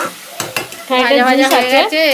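Meat juice poured onto chicken frying for biryani, starting with sharp spattering bursts and then a loud steady sizzle joined by a sustained wavering tonal whine.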